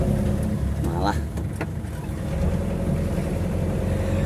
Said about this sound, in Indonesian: Mobil balap paling kenceng iki lho.